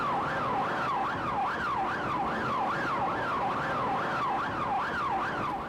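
A siren wails steadily in a rising-and-falling yelp, loud and continuous over the rumble of traffic, with no voices.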